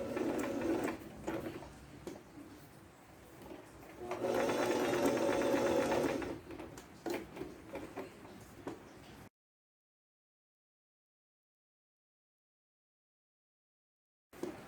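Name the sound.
sewing machine stitching fabric for rag doll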